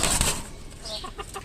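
Several desi hens on a small backyard poultry farm scuffle together, with a burst of wing flapping at the start followed by short clucks, all fairly close.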